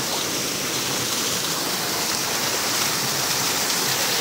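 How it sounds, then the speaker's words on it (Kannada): Water pours steadily at Kallathigiri waterfall, a dense, continuous hiss and roar that stays loud and even from start to finish with no voices. "ಫಾಲ್ಸ್ ನೋಡಿ, ಈ ಥರ ಇದೆ, ನೀರು ಹರಿತಾ ಇದೆ"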